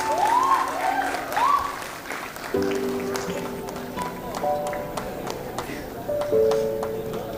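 Audience applause at a university management institute's annual convocation, a steady wash of clapping under sustained tonal music and brief voices, fairly distant and even throughout.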